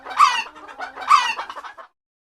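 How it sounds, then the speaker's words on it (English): A big fat hen clucks close by in two quick bursts of rising, squawking calls, each trailing into softer chattering clucks before falling silent. "a big fat hen"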